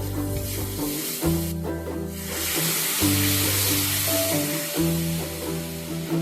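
Turmeric and coriander powder frying in a pan with a splash of water for prawn pulao, a loud, continuous sizzling hiss under steady background music.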